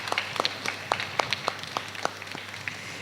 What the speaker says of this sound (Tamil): கைத்தட்டி நம்ம சாமியாருக்கு ஒரு வாழ்த்து சொல்லுங்க பார்ப்போம்